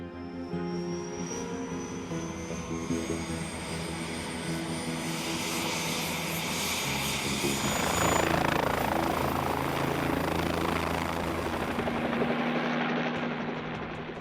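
A helicopter drones loudly and continuously above Kilauea volcano during aerial filming, its engine and rotor noise steady and close, rising into a harsher, louder whine partway through with no speech.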